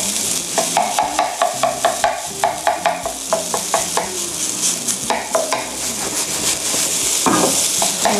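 Rice stir-fried in a pan for fried rice with gravy sauce, loud continuous sizzling under rhythmic scraping and tossing strokes of a spatula against the pan, with no talking.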